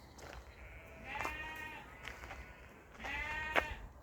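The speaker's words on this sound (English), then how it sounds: "It's what you call sheep." Two separate sheep bleats, wavering and moderately near, rise above an outdoor breeze with quiet pauses between them.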